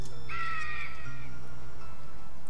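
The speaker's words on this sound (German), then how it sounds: "Und warum hört sie sich an wie ein Vogel?" A bird-like cawing voice from a character in the video game Der Schwarze Magier gives one harsh, crow-like call near the start, then fades, leaving a quiet game background with no talking.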